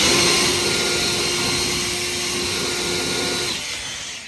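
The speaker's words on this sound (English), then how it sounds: "Bet you never thought you'd see someone using a leaf blower while working on a car" An Ego Power 3000 leaf blower roars steadily and loudly at close range while blowing black widow spiders out from a 2012 Ford Focus during rack and pinion work, then winds down near the end.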